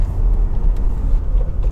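A bus rumbles along beside a car on an Indian road, a low, steady engine and tyre drone close by with faint rattles, no voices.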